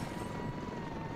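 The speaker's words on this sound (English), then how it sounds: "There's a chopper. I can hear it." Brief, loud rotor roar of a helicopter in the video game Ravenfield, a dense steady whir heard alone in a short burst.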